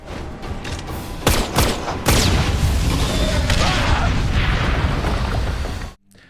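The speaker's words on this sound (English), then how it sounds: "the bullet hits the bomb instead," A bomb detonates when a bullet strikes it in a Deathstroke and Batman fight scene: a loud, sustained broadband blast with rumbling debris, preceded by a few sharp gunshot-like cracks, then cutting off abruptly.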